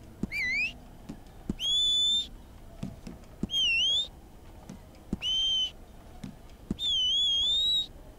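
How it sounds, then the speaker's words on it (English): A horse whistle in the video game Red Dead Online sounds five times, each a clear high pitched sweeping call, some short and some held longer, with brief gaps between them and soft thuds underneath. "Let's see what the whistle sounds like."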